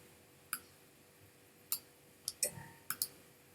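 Computer mouse buttons clicking while working in Tinkercad: about five crisp, close clicks at irregular intervals, one a quick double, over a quiet background with no talk.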